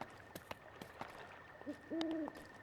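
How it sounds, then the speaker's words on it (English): Owls hoot softly at night in the open world of Zelda: Breath of the Wild, a couple of low, clear calls against quiet ambience with scattered faint clicks and taps. "Listen to the owls and the peaceful nature."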